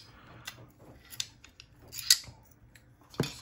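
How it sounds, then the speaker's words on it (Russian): Slide drawn off the frame of a SIG P226 TK-PRO airsoft pistol, heard as a string of small close metallic clicks and scrapes that build to a louder clack at the end, with no speech. "снимаем затвор с рамки"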